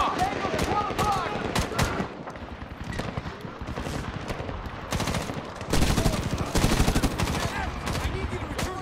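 Dense, continuous automatic gunfire from a military shooter game, rapid bursts and cracks layered over one another, loud and close, with shouted voices mixed in.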